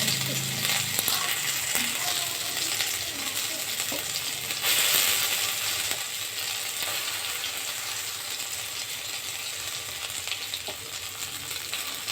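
Steady loud sizzling of green peas frying in hot oil in a wok, with occasional scraping and stirring clatter, continuous throughout with no talking.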